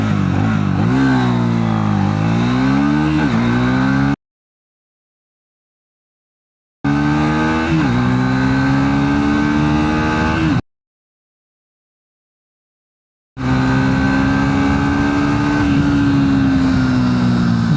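Three bursts of a Triumph Speed 400 (349cc) motorcycle accelerating hard in 0 to 60 and 0 to 100 runs, each with engine pitch climbing through gear changes, separated by silent gaps.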